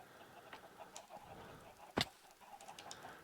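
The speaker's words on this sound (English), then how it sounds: "Chickens, stop laying eggs." Short Minecraft chicken clucks and squawks as they lay eggs, over a steady game background hum, with one sharp bright burst midway.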